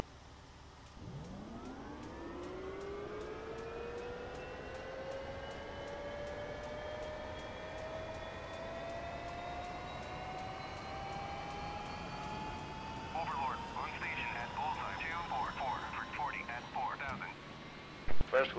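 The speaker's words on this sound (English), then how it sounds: "Come on, start the chopper." Helicopter turbine spinning up during engine startup in the flight sim DCS World, a rising whine that climbs steadily in pitch and holds for many seconds, with rotor chop and clatter joining toward the end; a voice speaks over it.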